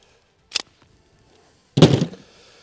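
A frozen firearm, an Archon Type B pistol in cold weather, is test-fired: a sharp, short crack, then a louder, fuller report a second later, each ending quickly in quiet.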